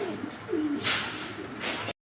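A pigeon gives a short, soft coo close by, followed by a brief rustle and a breathy burst of noise before the sound cuts off abruptly.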